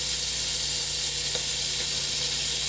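A hamburger sizzles on a Kenyon City Grill with a steady, dense frying hiss that stays even and close throughout, with no voices.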